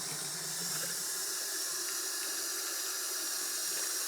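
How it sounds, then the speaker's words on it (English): Water runs from a faucet into a basin during a partial bed bath, a steady, fairly faint hiss and splash that continues without break. "And we'll fill the basin about a quarter of the way full."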